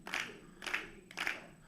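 A group of people clap their hands together in a steady beat, three even claps close by at a calm pace during an Afro-Latin dance and music session.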